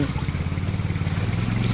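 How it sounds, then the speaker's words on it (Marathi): Rainwater rushes strongly across a flooded road in Palghar, making a steady, loud, close churning and gurgling flow with no break. "पाण्याचा प्रवाह एवढा जोरात आहे"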